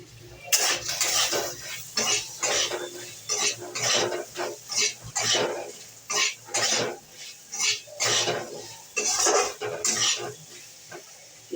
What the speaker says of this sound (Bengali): এই জিরে গুঁড়ো দিচ্ছি আমি নাড়ছি